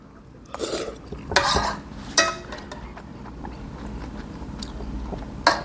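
Spicy instant noodle soup being stirred and eaten: soft chewing and slurping broken by a few sharp clinks of utensils against the bowl, close and moderately loud, with no talking.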